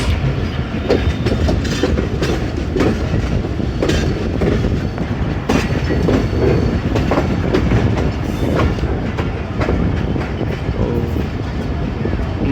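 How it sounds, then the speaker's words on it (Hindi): Rehman Baba Express rolling into Lala Musa junction, a loud, close rumble of wheels on rails with continuous rhythmic clickety-clack and occasional sharper knocks throughout. "मगरिब का टाइम हो गया और लाला मूसा जंक्शन पहुंच गई है ट्रेन हमारी"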